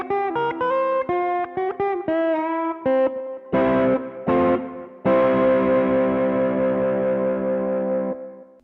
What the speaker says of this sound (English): this is my new Overdrive pedal, the twin note, it's the green pedal.